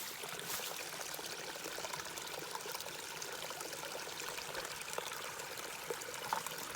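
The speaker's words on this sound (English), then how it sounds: "It's just flowing down the mountain from all the rain." Rainwater stream running down a mountainside along the Ouachita trail, a steady broadband rush and trickle heard close by, continuous and alone with no voices.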